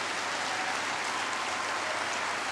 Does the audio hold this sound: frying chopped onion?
no